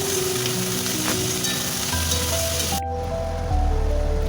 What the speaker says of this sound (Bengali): দিয়ে আমি নেড়ে চেড়ে পেঁয়াজ কলি ভাজা তৈরি করছি।